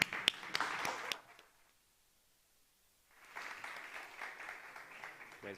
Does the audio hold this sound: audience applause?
yes